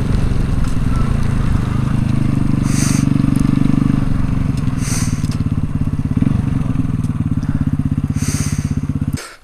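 A Honda Grom moped engine drones steadily up close while riding in the rain, a constant low rumble with occasional clatter and wind buffeting that cuts off abruptly at the end.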